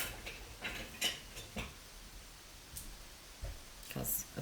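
A whisk fetched from among kitchen utensils, giving a handful of faint, light clinks and clicks scattered over a few seconds in a quiet kitchen.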